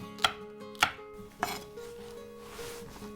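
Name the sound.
knife chopping red chili peppers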